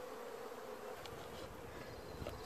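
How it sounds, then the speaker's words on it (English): Honey bees at a hive in Newfoundland, stirred up by banging and vibration, hum in a continuous close, droning buzz, with a few individual bees flying past nearby. "It's always good to bang and vibrate things around the hive to agitate the bees,"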